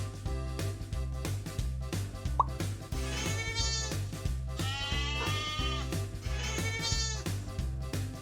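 Goats bleat in several wavering calls over a bouncy children's music track with a steady beat, set in a cartoon-style farm animal counting song.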